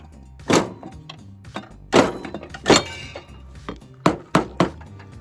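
Metal taps knocking a mower blade spindle loose: six or seven sharp, ringing clanks in uneven succession, close and distinct, with quieter clinks between them.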